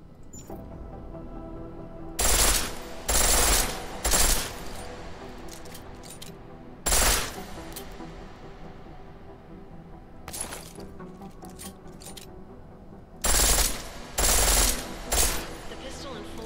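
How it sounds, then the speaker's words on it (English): A pistol switched to full auto in Deus Ex: Mankind Divided, firing several loud, rapid bursts in distinct groups separated by quieter stretches of game ambience. "The pistol in full auto will take down targets fast, but it'll burn through your ammo."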